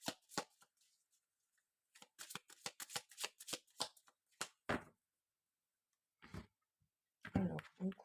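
Oracle cards from the Petit Enchanteur deck are shuffled by hand in quick, irregular riffles and taps, with scattered close crisp flicks, gaps of near silence and a final flurry, no talking.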